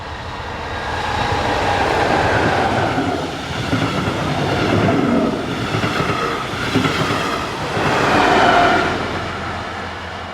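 A diesel-hauled passenger train from Mühldorf to München passes close by, its steady engine roar and rolling wheels rising in waves and peaking near the end, no one speaking.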